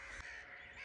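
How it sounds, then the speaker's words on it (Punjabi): Crows cawing in the early morning, one short, faint call heard from a distance over a quiet background. "ਕਾਂ ਜੀ ਸੁਬਹਾ ਸੁਬਹਾ ਆ ਰਹੇ ਨੇ"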